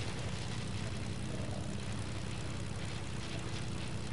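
A propeller plane's engine in the Fortnite video game drones steadily and loudly throughout, a continuous broadband roar with no talk over it.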